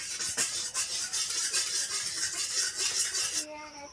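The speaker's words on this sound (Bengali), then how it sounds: "পিছনটা দিয়ে একটু নেড়ে দেবো।" A spoon stirring milk tea made with cow's milk in a metal pot, steady scraping and swishing strokes with faint clinks, close and continuous, ending abruptly.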